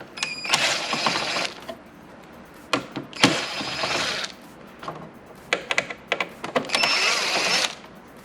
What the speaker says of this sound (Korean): 안쪽에 나사가 3개 들어있으니까 나사 3개를 풀어줍니다